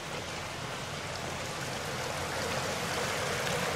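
A river flowing along a walking trail in the Ardennes, a steady broadband rush of moving water that holds even and close throughout, with no voices.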